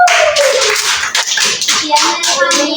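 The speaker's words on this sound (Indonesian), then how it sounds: "aplaus buat kelompok ini" Applause from a classroom audience for a student group that has just finished presenting, steady clapping filling the whole moment with voices talking over it.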